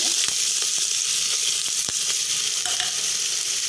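Chopped onions sizzle in hot oil in a pan for an eggplant dish, a steady bright frying hiss with a few sharp clicks and taps from the spoon or pieces dropping in, close and fairly loud throughout.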